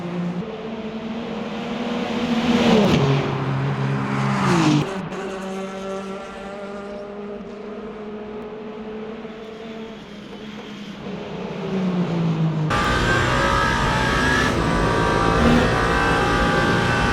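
A race car engine in the Le Mans Ultimate video game at the Circuit de la Sarthe during a 24-hour race, revving and shifting loudly with sweeping pitch changes, then holding a higher steady whine near the end.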